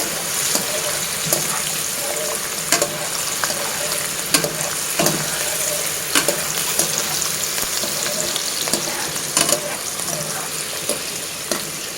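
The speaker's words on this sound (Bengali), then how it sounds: "আলুটা ফ্রাই হয়ে গেছে কালো করবো না আর কি এরকম ব্রাউন" Potatoes shallow-frying lightly in hot oil for a beef biryani give a steady close sizzle, with occasional louder crackles and scrapes of stirring across the whole span.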